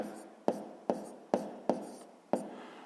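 Pen strokes of someone writing out a sixth-grade math solution on paper, five or six short sharp taps and scratches in an even rhythm, close and fairly quiet.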